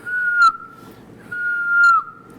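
A voice imitates an asthmatic wheezy chest whistle: two long, steady whistled tones, each rising slightly and ending in a brief breathy burst.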